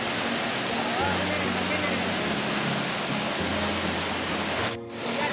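Mukhipata Waterfall at Manikera near Rampur in Kalahandi: a loud, constant rushing roar of falling water that fills the whole clip, with faint voices murmuring beneath it.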